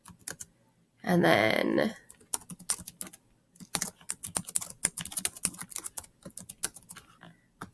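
Typing on a computer keyboard while entering a name for a Zoom breakout room, with rapid, close clicking keystrokes that follow a short spoken phrase.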